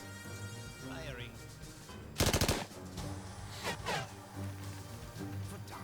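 A sharp burst of rapid gunfire cracks out in Achtung! Cthulhu Tactics, a short loud automatic volley amid quieter game sounds and music, with talk nearby.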